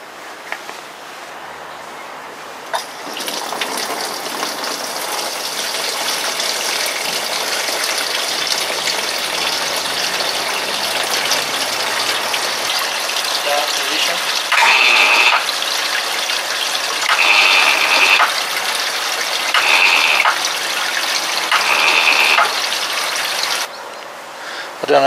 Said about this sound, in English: I'm going to turn on the water gently.